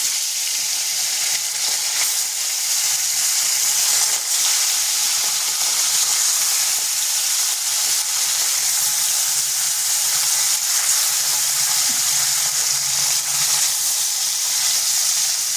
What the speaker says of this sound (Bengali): মাছগুলোকে ভেজে নিচ্ছি